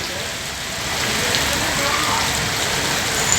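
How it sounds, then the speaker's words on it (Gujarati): Heavy rain pours down in Surat, a dense, loud, unbroken hiss of drops striking surfaces nearby. "વરસાદ ફૂલ ચાલુ છે."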